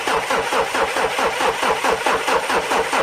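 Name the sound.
car engine starting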